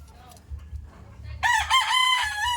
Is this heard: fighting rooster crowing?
yes